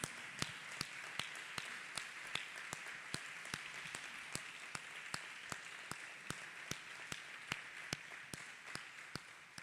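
A church congregation claps hands together in a steady unison beat, about two dozen crisp, evenly spaced claps, fairly faint against a quiet room.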